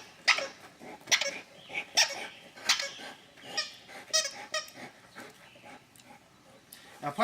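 A dog barks in short, repeated bursts during a chase-and-fetch game with its owner. Excited talk from a person runs in between the barks.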